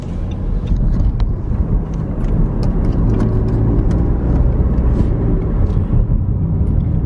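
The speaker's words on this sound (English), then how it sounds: "I can't really speak too long in the car because I'm just driving to work" Car engine hum and road noise from inside a car on the drive to work, a steady loud low rumble with faint clicks, no talking.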